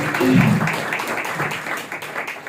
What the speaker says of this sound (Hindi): आज भाई सबके लिए हम जोरदार ताली बजा करके एक बार फिर से स्वागत करेंगे